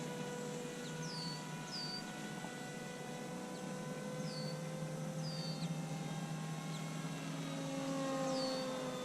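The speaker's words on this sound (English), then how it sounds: "that's a happy little plane" A small white and pink airplane flies overhead, a steady propeller drone with harmonic tones holding throughout, moderately faint against background birdsong chirps.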